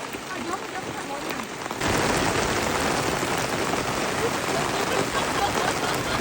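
Rain pours down steadily at a market, a dense close patter on surfaces that grows heavier and louder about two seconds in and keeps up without a break.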